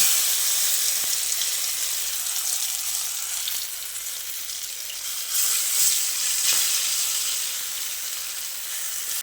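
Spice paste with black cumin and dried red chili sizzling and frying in hot oil in a pan while a bean mash is cooked, a loud, continuous crackling hiss that swells briefly as the paste is stirred.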